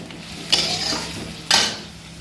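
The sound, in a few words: katla fish frying in tempered spices in a pan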